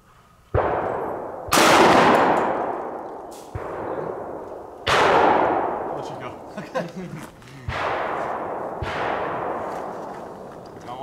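Shotgun blasts at a clay-target shooting range, six loud sharp reports spaced a second or two apart, each with a long decaying echo, with people talking briefly between shots.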